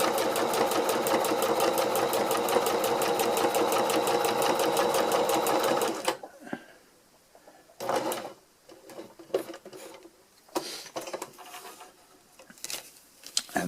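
A sewing machine stitches a long seam on a hex tarp, running loud and steady with a fast, even rattle for about six seconds before stopping, followed by scattered rustling and handling noises.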